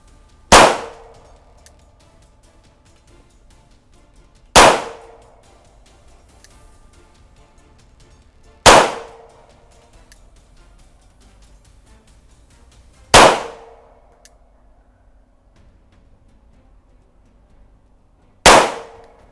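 A Ruger Mark IV Target pistol fires five single shots at a target, each a sharp, loud crack spaced about four seconds apart, separated by near silence.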